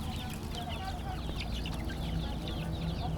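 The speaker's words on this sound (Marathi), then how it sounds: "कोंबडा आहे आता" A rooster clucks repeatedly on a farm in Jalna, mixed into a steady, dense outdoor background of other fowl and farm noise, with no clear speech.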